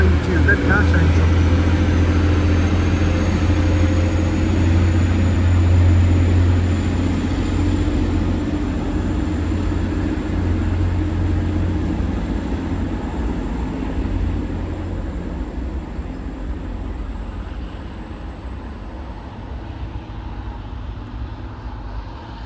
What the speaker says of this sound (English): Train now departing is a 185 going to Redcar Central